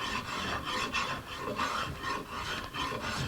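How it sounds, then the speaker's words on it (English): A spokeshave shaves thin curls off wood for a Martin 00 style acoustic guitar, giving a steady, close rasping scrape in repeated strokes with no pauses and no talking. "I've got my spoke shave, and you can tell it's going to take a little while at the rate I'm taking off shavings"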